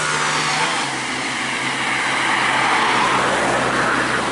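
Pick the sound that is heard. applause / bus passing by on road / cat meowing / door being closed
bus passing by on road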